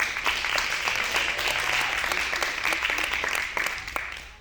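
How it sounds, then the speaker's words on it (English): Audience applause at a live dance panel event, a steady dense clapping from a crowd that holds for several seconds, close and fairly loud, with a few sharper individual claps standing out. "Let's give it a round of applause."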